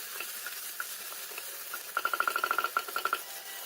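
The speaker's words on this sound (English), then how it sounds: "Next goes in the tomato. Fry the tomato well." Tomato fries with ginger garlic paste in a pan, a soft sizzle under quick stirring, with a rapid run of rhythmic scraping taps in the second half, fairly quiet and without speech.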